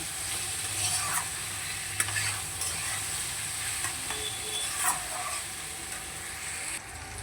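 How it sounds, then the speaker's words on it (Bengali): Ground spice paste stir-fried in a pan in a home kitchen, a continuous sizzle broken by scraping stirs and a few sharp clinks of the utensil, close and fairly loud. "এবার এই মশলাটা দিয়ে একটু ভালো করে কষিয়ে নেব।"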